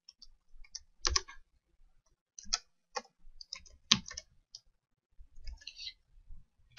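A computer keyboard clicks in scattered, irregular bursts of sharp taps, some single and some clustered, close and fairly quiet against a near-silent room.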